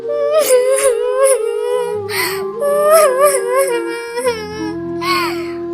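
A high-pitched cartoonish voice wails and sobs in drawn-out cries, imitating a crying bird, over a soft musical backing.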